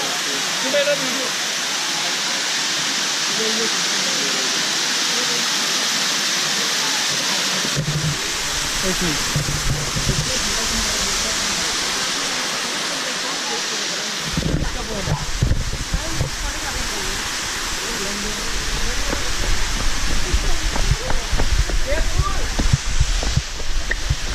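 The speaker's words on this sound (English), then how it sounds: "beautiful waterfall" Steady broadband rushing of a waterfall near Chandigarh fills the scene, with occasional voices and movement nearby under the constant roar.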